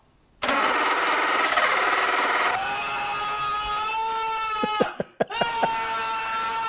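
A rainbow-wrapped Ford Raptor with an EcoBoost engine cranks and fires up with a loud starter whir, then drops into a rough idle punctuated by a few sharp revs, heard close and alone.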